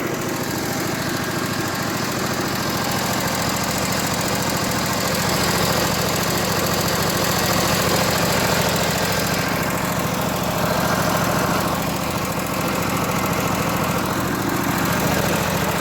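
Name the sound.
small engine running, valve noise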